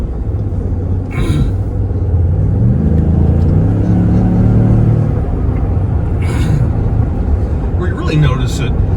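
A truck with a stock 3.5L Ecoboost engine and a throttle sensitivity controller accelerates gently, its deep engine rumble rising and holding steady from inside the cab while people talk over it.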